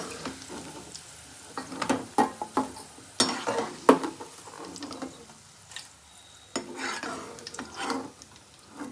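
Ivy gourd (dondakaya) pieces crackle crisply as they are stirred, with a run of sharp clicks and scraping bursts over a low frying hiss, loud and close with brief pauses.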